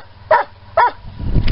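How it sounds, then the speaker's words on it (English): A dog barks at a UPS delivery driver: two sharp, loud barks close to the microphone, evenly spaced about half a second apart, followed by a low rumble of movement and noise. "He's barking, that's what dogs do when strange people show up."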